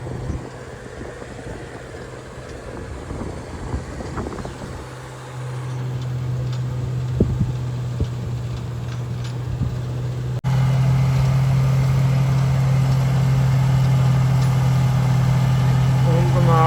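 A tractor engine runs during straw work on a farm, a steady low hum that grows louder and fuller midway, with people talking under the engine noise.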